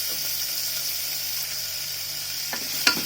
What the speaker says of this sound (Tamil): நல்லா அதை லோ ஃப்ளேமில் வச்சு இதை வதக்கி விட்டுக்கோங்க.